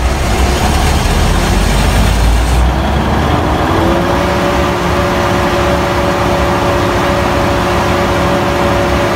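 A generator runs close by with a loud, steady engine drone that shifts pitch slightly partway through and then holds a constant hum, with no voices.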